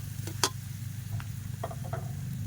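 Garlic frying in a pan for a Thai chili-pork relish, a soft steady sizzle with a few faint utensil ticks and scrapes, close and unaccompanied by talk.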